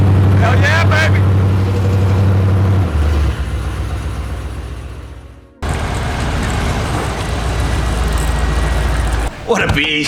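Rebuilt Dodge Challenger being driven, its engine rumbling loudly and close before cutting out, then droning again at a steady pace with a brief change near the end; no talking is heard.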